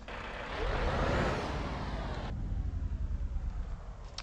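A deep V8 truck engine in Euro Truck Simulator 2, heard from the cab interior, drones steadily, swelling louder early on and then settling into a lower, even rumble that pulses slightly toward the end.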